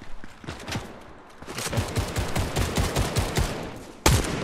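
Rapid bursts of gunfire in a shooting video game crackle in quick succession, dense automatic volleys with a sharp louder shot near the end and no talking over them.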